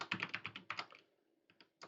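Computer keyboard typing code, a quick run of close, crisp key clicks followed by a short pause and then a few more taps, with no voice.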